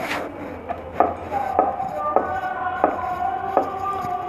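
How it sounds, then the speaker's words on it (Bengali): A rolling pin working fuchka dough on a board, giving a series of regular, close wooden knocks and rolling rubs about every half second, with no talking. "তেল দিলে ইজিভাবে রুটিটা বেলা যায়"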